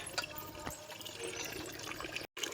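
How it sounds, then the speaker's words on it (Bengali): Water from a tap runs steadily into a pot or pitcher, a continuous rushing trickle with a brief break near the end before resuming. "এই যে জল পড়ছে"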